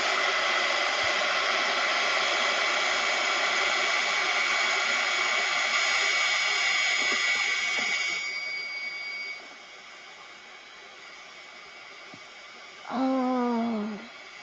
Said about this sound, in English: I'm going to turn on my heat gun